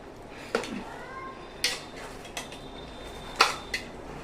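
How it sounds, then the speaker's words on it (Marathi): A spoon stirs ghee into veg pulao in a pot, making several sharp metallic clinks and taps spaced irregularly over a quiet background. "1 चमचा साजूक तूप, आणि छान हलवून घ्यायचं"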